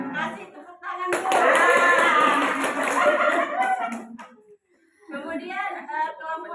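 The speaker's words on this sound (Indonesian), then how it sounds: "Kasih tepuk tangan Bu." A parenting class group applauds, a burst of clapping for a few seconds, with voices and chatter before and after.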